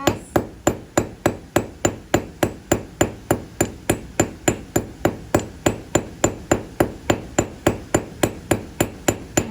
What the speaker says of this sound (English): by rolling it flat on the anvil surface, this dirty surface, I'm going to make it round.